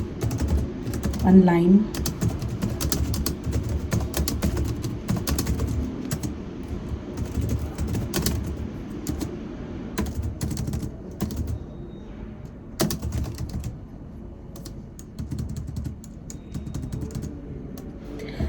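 Steady clicking of computer keyboard typing runs throughout at close range, with intermittent talk over it.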